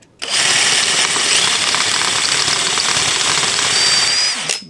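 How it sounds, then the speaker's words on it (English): A power drill whines loudly and steadily as it bores down into a mild steel rivet on a suitcase wheel held in a vise, starting abruptly and running for several seconds before stopping. "I'm going to be drilling down"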